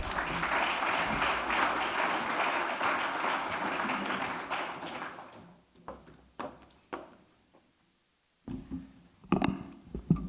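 Audience applause welcoming John Storey at a 2023 Samuel Griffith Society conference, dense and steady for about five seconds before thinning into scattered individual claps and small handling noises.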